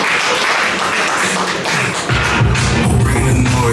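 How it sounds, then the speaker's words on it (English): Audience clapping at a boxing press conference, loud and dense, with booming music kicking in partway through and playing beneath the applause. "let's give a big round of applause from BSA South Africa"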